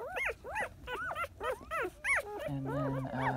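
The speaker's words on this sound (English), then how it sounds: "this is the boy puppy" A newborn boy puppy from a litter on its third day whimpers and squeals in a rapid series of high, rising cries, faint and close, with a brief low growly grunt near the end.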